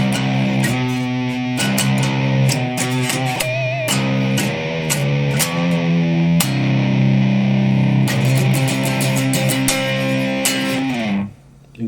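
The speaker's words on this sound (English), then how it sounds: "it turns our distortion into like a fuzz effect" Ibanez RG7321 seven-string electric guitar played through a fuzz effect on the fourth pickup selector position: loud, saturated strummed chords and sustained notes ring out alone for about eleven seconds before cutting off abruptly at the end.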